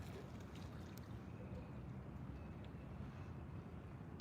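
A low, steady engine rumble from a boat on the water, faint and distant, with light wind noise over it.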